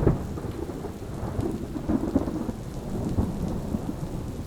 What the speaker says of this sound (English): So for example, we can have thunder.